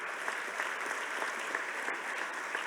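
At a city summit plenary, an audience gives a round of applause for mayors, a steady, moderately distant wash of many hands clapping at even volume.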